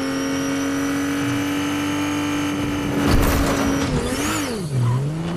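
A car driving in the video game Fortnite, its engine holding a steady droning tone, then surging and rising in pitch as it revs, with a swooping whine near the end.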